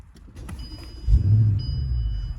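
A Bentley Continental GTC V8 S engine cranks and fires up close by, settling into a deep, steady V8 idle rumble after a brief starter whirr, with no talking.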